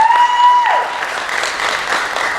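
Audience applause fills a charity drive talent show hall, a dense, steady wash of many hands clapping at close range, loud throughout.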